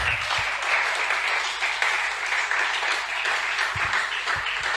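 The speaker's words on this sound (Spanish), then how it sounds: "Dale ese aplauso fuerte al Señor." Sustained applause from a church congregation, a dense steady patter of many hands clapping at even loudness throughout.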